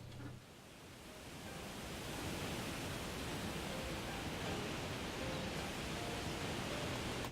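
Steady, full-bodied rushing water from a waterfall in the game Shenmue II in rural China, loud and continuous with no pauses or voices.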